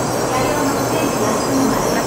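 A Japanese Shinkansen bullet train, the Nozomi, rumbles steadily in a loud, continuous roar with a faint high squeal, heard close as if from inside or beside the carriage, travelling between Osaka and Kyoto.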